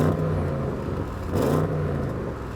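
A car engine in a drag race between an Audi RS6 GT, BMW M5 CS and Mercedes-AMG E63 S, held at high revs, droning steadily and bouncing against a soft limiter with a brief surge midway.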